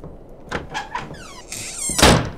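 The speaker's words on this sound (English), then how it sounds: "Okay, let's try this door." A door opens in the horror video game Candles: a few knocking thuds, then a rising creaky squeal and a louder heavy thump near the end, fairly close, with no talking.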